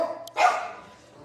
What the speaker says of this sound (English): These dogs have been loud.